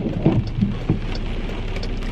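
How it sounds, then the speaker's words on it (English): Steady rain falls on a rainy Memorial Day weekend on Cape Cod, a continuous broadband hiss at even loudness with no voices. "So Memorial Day weekend and it's raining today."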